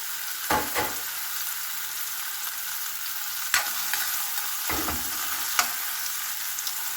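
Tomatoes and chili sautéing in a hot pan give a constant bright sizzle, with a few scattered scrapes and clinks of a spatula stirring them, close and steady throughout.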